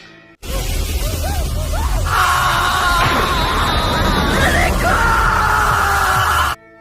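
A woman screams in a scene from the Indonesian horror film Sewu Dino, a loud, sustained, wavering shriek lasting several seconds with yelling and a rumble beneath it.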